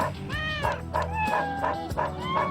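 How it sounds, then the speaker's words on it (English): A dog in a video game lets out a run of four or five yelping barks with howl-like, rising pitches, each one clear and fairly close. "What a neat-looking dog."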